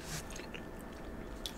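Close, steady chewing of crunchy enoki mushrooms during a Chinese food meal, with soft crunches and moist squishes in a continuous rhythm.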